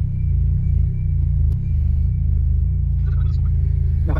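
A car with failed brakes reverses with a close, steady low engine rumble, loud and even, with a faint higher sound near the end.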